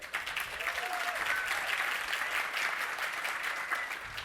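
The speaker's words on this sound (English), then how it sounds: "A round of applause for Mike." Audience applause for a panelist at a live podcast panel on plein air painting and the film industry, a sustained even patter of many hands at moderate distance, fairly soft, with no talk over it.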